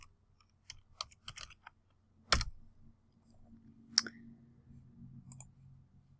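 Keys clicking on a computer keyboard, short sparse taps and small bursts with a sharper click near the middle, close but quiet, no talking.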